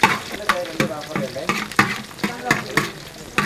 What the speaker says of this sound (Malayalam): ഇനി പച്ചമുളക്, വെളുത്തുള്ളി, കടുക് ഇട്ടു. ഒന്ന് ഒന്ന് സോർട്ട് എടുക്കാം.